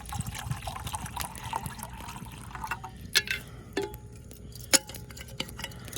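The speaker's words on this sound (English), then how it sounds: "throw me a little bit of water in." Water poured from a canteen into a metal canteen cup at a campsite, a soft trickle and splashing fill with a few sharp clinks of metal, fairly quiet and without talk.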